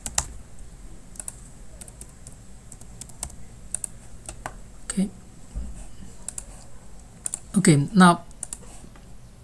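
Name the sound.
typing on computer keyboard to log in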